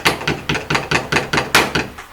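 Steady hammer strikes while building floating kitchen shelves, about nine evenly spaced loud blows in quick rhythm, close by, with no voices.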